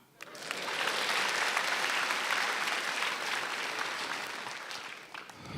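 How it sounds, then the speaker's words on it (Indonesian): A live comedy audience bursts into steady, dense applause that swells quickly, holds at full strength for several seconds, then tapers off at the close. "woi, tepuk tangan"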